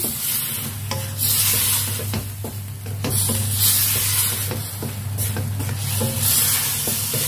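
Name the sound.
stirring bitter melon and chicken wings in a pan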